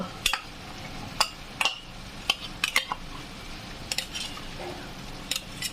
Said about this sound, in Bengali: এবার আমি এই বড়া ভাজাগুলো অ্যাড করব আর পোস্তটাও অ্যাড করব।